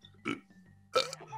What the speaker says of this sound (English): Can you air burp?